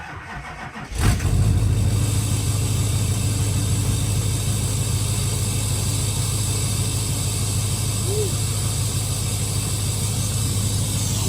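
A truck engine with an aftermarket exhaust starts and settles into a loud, steady idle with a deep, rumbling exhaust drone.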